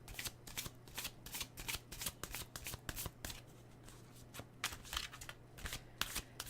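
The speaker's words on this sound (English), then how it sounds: "I'm shuffling. They're just really big cards. They're just kind of hard to shuffle." Oversized cards are shuffled by hand, giving a string of quick, crisp riffling bursts in an irregular rhythm, fairly quiet and close, with no talk over them.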